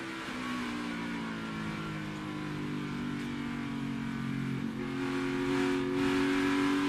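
NASCAR Cup Series stock cars at New Hampshire run down the front straightaway in the Foxwoods Resort Casino 301, a loud continuous engine roar with rising pitch as the pack passes and no talk.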